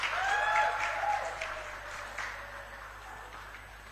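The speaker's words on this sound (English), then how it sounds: "May we please give her a round of applause as she comes up." Audience applause at a youth political campaign launch in Zimbabwe, a steady wash of clapping that swells early and then gradually fades over a few seconds, with faint voices mixed in.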